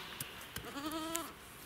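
A goat bleats once in the snow outside its hut, a short wavering cry heard faintly at a distance, with a couple of soft thuds just before it.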